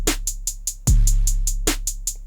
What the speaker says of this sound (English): This is an 8th note closed hat pattern.